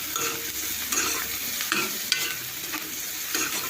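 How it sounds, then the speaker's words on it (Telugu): Salt and turmeric are stirred into gongura curry frying in a pan, giving a continuous nearby sizzle broken by repeated scraping stirs of a spoon against the pan, with no talking. "కొద్దిగా పసుపు ఇది వేసి బాగా కలుపుకోండి ఒకసారి."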